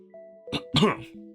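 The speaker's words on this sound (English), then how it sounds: "Amicus coughs awkwardly" Amicus, a pawed character, gives a short awkward cough in two quick close bursts over a faint steady background tone.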